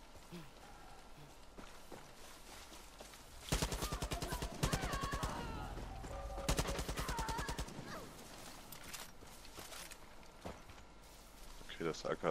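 AK rifle fire from the game Far Cry New Dawn comes in two rapid automatic bursts of sharp, evenly spaced shots. Footsteps and quieter ambience surround the bursts, and a voice talks at times.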